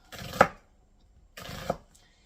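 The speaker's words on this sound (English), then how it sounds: "And I'm just going to slice it like that. Make it thin slices." An onion being cut into thin slices with a knife on a board, giving two separate crisp chopping cuts about a second apart, close and clear, with no voices.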